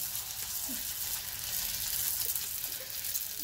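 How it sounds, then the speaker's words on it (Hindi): Pani puri (golgappa) dough rounds fry in hot oil with a constant, bright sizzle and small bubbling pops, close and steady throughout. "अब हम इसमें एक एक करके डालेंगे और आपको दिखाते हैं कैसे फ्राई करेंगे"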